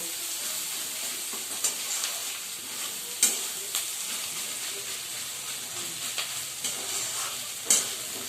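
Eggs and spices sizzle in a pan for egg tadka, a constant close frying hiss punctuated by occasional clacks of the spatula as the mixture is stirred.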